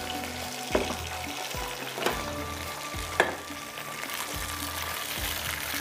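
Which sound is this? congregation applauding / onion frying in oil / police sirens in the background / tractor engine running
onion frying in oil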